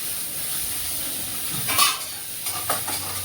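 Okra (bhindi) cooks in a pan with a steady sizzling hiss, broken by a few scraping stirs near the end.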